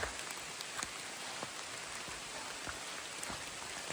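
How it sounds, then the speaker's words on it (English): Steady rain falls on the Appalachian Trail, a soft continuous patter with scattered distinct drops tapping nearby, fairly quiet and unbroken throughout, no voices. "It's raining again."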